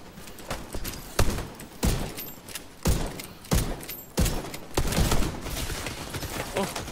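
Bursts of rifle fire crack out in The Division 2's Dark Zone, several sharp irregular volleys spread across the stretch, fairly loud and close, with busy game noise filling the gaps and no talking.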